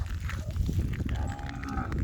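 A cow on a Thai cattle farm moos once, a drawn-out nasal call at close range that rises and sustains over a little background noise.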